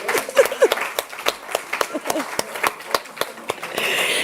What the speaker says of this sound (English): Round of applause to you, please.